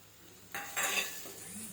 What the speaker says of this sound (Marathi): हे पूर्ण व्यवस्थित फ्राय करून घ्यायचं